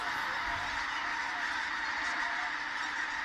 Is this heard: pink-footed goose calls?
yes